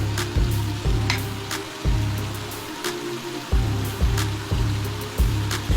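Vegetables with colourful bell peppers are stirred in a hot stir-fry pan, giving a constant loud sizzle and a rhythmic scraping pulse of the spatula about twice a second, with no voices.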